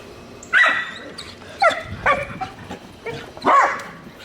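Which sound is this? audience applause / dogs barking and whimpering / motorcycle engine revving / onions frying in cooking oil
dogs barking and whimpering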